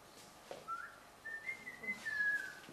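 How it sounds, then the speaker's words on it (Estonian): A person whistles a short, wavering tune of a few sustained notes rising and sliding, fairly close and alone, with faint room noise and no talk. "Tahtsin ka vilistada proovida."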